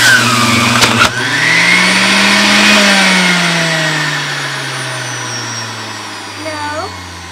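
Electric citrus juicer whirring as it squeezes an orange, a steady close motor hum that sags in pitch under load and then winds down, with a brief knock near the start.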